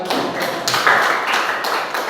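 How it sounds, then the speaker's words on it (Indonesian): Classroom applause right after a student group's presentation, a dense run of many hands clapping together at moderate loudness, steady for about two seconds with no speech over it. "Oke, baik. Tepuk tangan."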